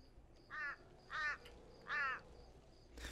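A crow in the video game A Quiver of Crows caws three times in evenly spaced, harsh calls over a quiet background.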